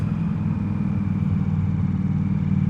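Ducati Diavel V4 motorcycle engine running under 3,000 RPM, a steady low throbbing rumble heard close and continuous without any voices.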